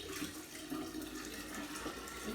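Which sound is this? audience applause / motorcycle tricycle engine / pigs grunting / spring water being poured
spring water being poured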